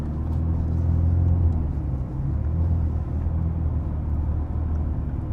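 A Mercedes-AMG GT Black Series with its flat-plane V8 in race mode idles with a deep, steady rumble while standing still, loud and close, with no talking.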